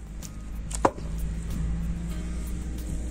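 A Fiskars X27 splitting axe strikes a log outdoors, giving one sharp, loud chopping crack followed by a low steady background hum.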